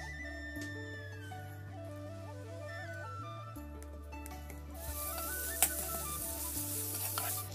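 Onions frying in a pan for an arbi leaf saag dish, a soft steady sizzle heard faintly beneath background music, with a brief clatter partway through.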